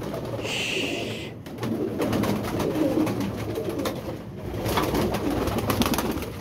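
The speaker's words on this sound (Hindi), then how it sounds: "ये जी कुछ कबूतर ऊपर चले गए हैं" Pigeons coo steadily nearby, low rolling calls repeating over a busy ambient background, with a brief higher chirp early on.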